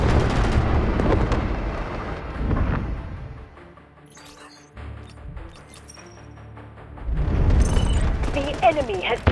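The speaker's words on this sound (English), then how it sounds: "Roger that, artillery barrage incoming." An artillery barrage strikes during a 24v24 Delta Force warfare battle on the Cracked map. Heavy rumbling blasts and crashes come at the start, fade into quieter crackling and distant shots, then return as loud, rolling explosions.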